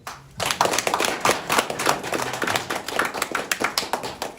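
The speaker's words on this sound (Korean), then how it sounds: "여러분 박수 한 번." Audience applause at a gathering in Sejong City welcoming a visiting party primary candidate, a dense burst of many hands clapping that starts abruptly and continues steadily and fairly close.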